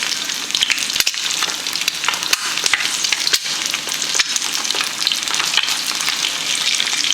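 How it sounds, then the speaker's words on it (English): Egg frying in oil in a pan, a loud continuous close sizzle and crackle with scattered pops, no voices. "You gotta be careful when it's frying like that."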